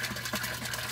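A water pump runs steadily in a backyard goldfish aquaponics setup with a grow bed and bell siphon, giving a low continuous mechanical hum with a faint watery trickle throughout, fairly quiet and alone.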